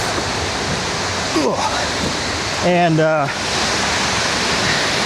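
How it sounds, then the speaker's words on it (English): Huge waterfalls roar in a loud, steady wash of white noise, with someone talking over it. "I apologize for the background noise, but these waterfalls are huge."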